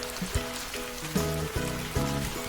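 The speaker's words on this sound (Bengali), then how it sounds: "চলো ভিতরে চলে যাই, বৃষ্টির বেগ বাড়ছে।" Cartoon rain falls as a continuous soft hiss, layered under a repeating tonal music score with light plinking drops.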